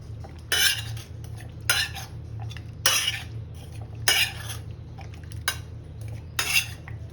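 Boiled bottle gourd pressed and handled in a metal dish, giving a series of separate clattering, scraping knocks against the dish at irregular intervals over a steady low hum, with no talk.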